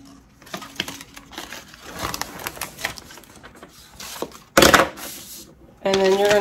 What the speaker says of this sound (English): Now I'm going to take the backing off of my transfer tape.